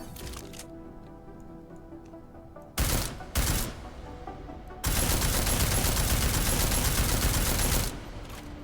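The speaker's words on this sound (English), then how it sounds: "but the battle rifle is pretty cool." Battle rifle firing in Deus Ex: Mankind Divided: two short loud bursts, then a sustained stretch of rapid automatic fire lasting about three seconds, standing out over a low game background hum.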